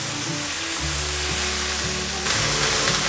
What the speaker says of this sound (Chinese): 快速的翻炒，这时候可以来调味了